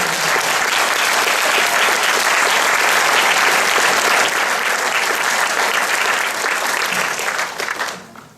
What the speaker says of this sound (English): I think we should give another round of applause to all our students